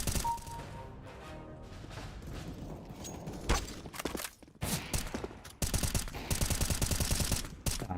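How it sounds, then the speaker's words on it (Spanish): Counter-Strike gunfire during a match in a Major tournament, rapid automatic bursts and single shots crackling at varying distances, denser and louder toward the end. "están viendo en vivo cómo me recagan a tiros"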